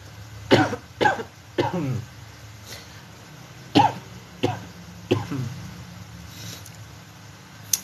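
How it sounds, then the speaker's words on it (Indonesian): A series of sharp coughs, several in quick bursts, close to the microphone in an otherwise quiet room. "Ya, mohon maaf batuk."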